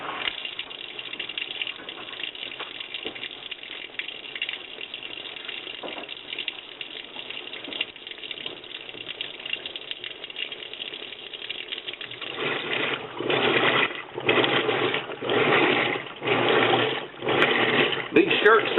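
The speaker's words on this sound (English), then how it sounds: "It may put water in the washing machine one more time" A washing machine fills with water, a steady gushing hiss that runs for a while, then turns into rhythmic surging pulses as the tub churns, loud and close, with someone talking over it.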